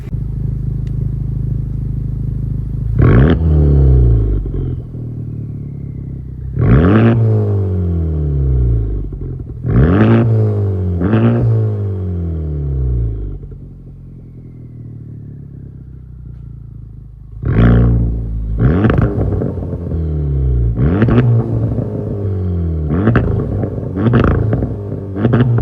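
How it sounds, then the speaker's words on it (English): A Honda Type R fitted with a Tomei Type D exhaust drives past repeatedly, each pass a loud rising roar of revving and acceleration that swells and fades, separated by quieter idle-like stretches. "let's go ahead and get some exhaust clips where we won't bother the damn neighbors"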